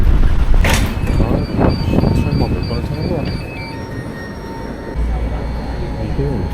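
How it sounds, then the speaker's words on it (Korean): A tram rumbles closer along a street in Naples, Italy, with steady low motor drone, some wheel squeal and rain-soaked traffic hiss around it. "반대 방향 열차 온다 전차 아니 트램"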